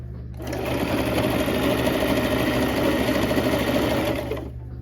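A sewing machine stitches fabric in one continuous run of several seconds, a steady close whirring buzz that starts abruptly and stops just as sharply, with no talking over it.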